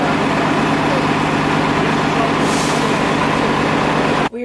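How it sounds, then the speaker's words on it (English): A large bus idles at the Disney Springs bus stop, its heavy engine droning steadily and loudly throughout, with a brief burst of hissing air partway through before the sound cuts off abruptly at the end. "We're gonna head back to the bus stops and take a bus back to All Star Music."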